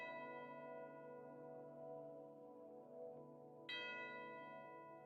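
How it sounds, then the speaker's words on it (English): A bronze bell tolls with a deep, rich ringing that hangs in the air, echoing and layered, with a fresh bright strike near the end renewing the resonance; no speech. "Echoed the bronze bell."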